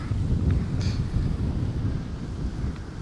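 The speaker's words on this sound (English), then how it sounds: "As the wind picks up a little bit on Mahan Drive." Wind gusts outdoors on Mahan Drive in Norwich, Connecticut, give a steady low rumble of wind buffeting the microphone for several seconds, with no talking.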